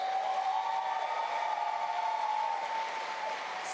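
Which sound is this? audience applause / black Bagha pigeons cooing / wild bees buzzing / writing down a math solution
audience applause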